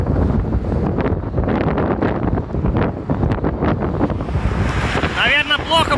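Strong wind buffets a microphone while driving in evening rush-hour traffic in Dubai, a loud continuous roaring rumble with gusty surges, and someone speaks in Russian beneath it.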